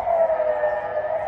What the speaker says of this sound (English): There's a siren going on and they're practicing it in case of war.